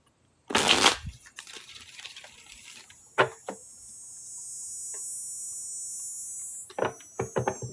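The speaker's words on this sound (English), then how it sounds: "That shuffle is so clean." A tarot deck being shuffled during a full moon reading: a burst of crisp riffling card noise, then scattered flicks and taps, with a steady high cicada-like insect drone running underneath before more shuffling at the end.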